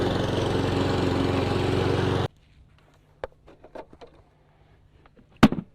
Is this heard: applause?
no